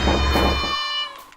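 A video game cat lets out one loud, drawn-out meow that rings clearly for about a second, then fades into near silence.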